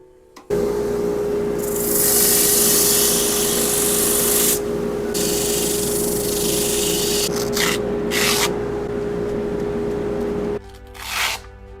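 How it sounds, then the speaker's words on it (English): A wooden mallet being sanded with a power sander in a workshop: a steady loud whirring motor hum with bursts of abrasive rasping against the wood, pausing briefly before winding down near the end. "Now it's time to sand."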